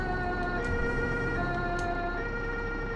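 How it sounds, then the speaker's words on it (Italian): An ambulance siren in the Bus Simulator video game wails steadily with a sustained electronic tone over game engine noise, close and continuous, with no talk over it. "C'è un'ambulanza."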